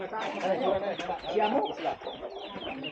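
Clucking chickens fill the short stretch, close and continuous, with someone speaking over them.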